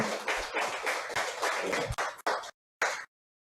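A congregation at a church service claps in thanks, a dense burst of applause that cuts off abruptly, followed by a couple of brief clapping fragments.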